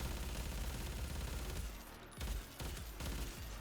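The Sagek/Galariak Prime weapon in Warframe fires a rapid, dense volley of gunshots, loud and close, with a brief lull before bursts resume; no voices.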